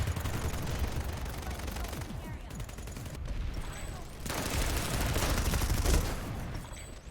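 MSW-R machine gun firing in Planetside 2, with loud rapid bursts of automatic gunfire and overlapping shots from other weapons in a busy firefight, pausing briefly before another long volley.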